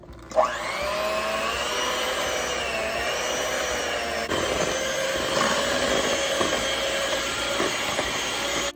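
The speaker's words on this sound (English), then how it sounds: "so now we're gonna go ahead and mix it together" An electric mixer whirs through dairy-free vegan cake batter in a bowl, a steady, loud motor whine that starts abruptly and holds at an even pitch with no voices.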